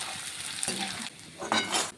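Homemade kurkure pieces fry in hot oil, a steady sizzle broken by stirring scrapes and a louder burst of crackling near the end, close and without talk.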